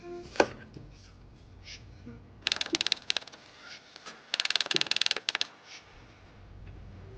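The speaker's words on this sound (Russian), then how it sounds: "Сейчас также нарежем белый лучок." A knife chops white onion on a board in two quick bursts of rapid, crisp taps, close and fairly loud, separated by softer kitchen handling noises.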